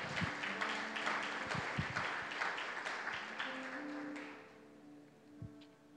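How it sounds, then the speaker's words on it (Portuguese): Church congregation applauding during a service, a dense burst of clapping that carries on for about four seconds and then fades away, leaving a faint tail with a few scattered sounds. "Aplauda o nome do Senhor"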